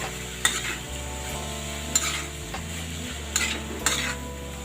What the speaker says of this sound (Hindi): स्लो फ्लेम पे इसको छोड़ दीजिए, ये अपना धीरे धीरे भूनता रहेगा, बस आप बीच बीच में इसको चलाते रहिए।